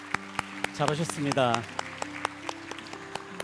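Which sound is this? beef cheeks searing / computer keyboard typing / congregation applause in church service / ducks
congregation applause in church service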